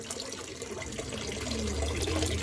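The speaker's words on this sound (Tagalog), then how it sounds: "Patay mo na kasi muna yung gripo." Tap water running steadily during a fishing outing, a continuous splashing rush at moderate level with no speech over it.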